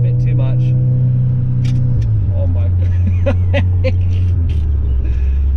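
A loud, close Stage 2+ tuned Audi S3 8V engine roars and revs with a deep rumble, the pitch shifting as it idles back down, while a person exclaims over it.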